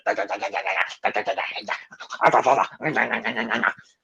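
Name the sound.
voice imitating snarling and growling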